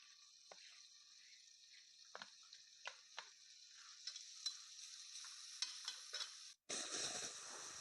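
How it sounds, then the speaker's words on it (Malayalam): Carrots are stirred into onions frying in a pan, with a soft continuous sizzle broken by scattered light scrapes and clicks of a spoon against the pan, building slightly louder before a brief gap and a fuller sizzle. "അപ്പൊ നമ്മൾ ഇനി ക്യാരറ്റ് ഇട്ട് ഇളക്കാൻ പോവാണ്"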